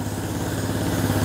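A Honda CT125 motorcycle engine idling smoothly and steadily, with an even low thrum heard close up and no talk.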